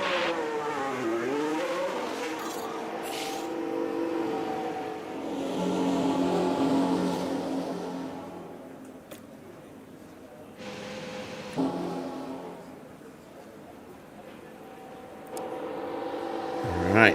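F1 cars in the F1 Manager video game drone past on track at the Chinese circuit, engines rising and falling as cars come and go, with talk over the engine noise.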